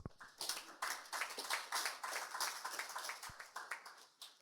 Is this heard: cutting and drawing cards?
no